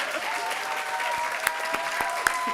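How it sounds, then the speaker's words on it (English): Indoor audience at a university postdoc presentation event claps steadily in a dense, continuous round of applause for the finalists, with a few sharper claps standing out. "let's give you another round of applause"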